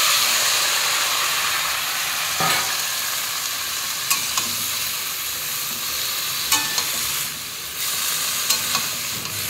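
Saag greens tipped into a hot oiled pan sizzle and hiss continuously while being stirred, with scraping stir strokes and bursts of steam over a steady frying crackle.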